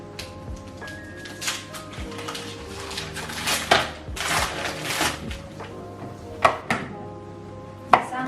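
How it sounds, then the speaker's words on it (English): A knife chopping white and milk chocolate into small pieces on a board, a run of irregular crisp cuts and taps, close and fairly quiet, some sharper knocks toward the end. "So we have white chocolate and milk chocolate, which we're gonna use for our cake. But we need to chop it into small pieces."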